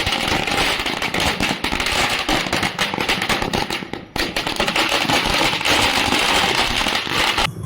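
Firecrackers burst outside a BJP office in Bhuj during an election victory celebration, a rapid, dense string of loud cracks and pops, crackling almost continuously with a brief lull midway.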